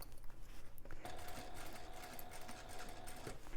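A sewing machine stitches a fabric bag near a metal D-ring with a steady, fast mechanical whir and rattle, close and moderately loud, running continuously with slight changes in tone as it passes over the thick spot.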